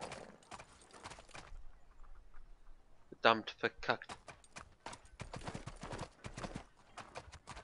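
Horse hooves clip-clop in the Western video game Six Guns, a rapid run of close, clattering hoof hits that stops and resumes, with a voice talking over parts of it.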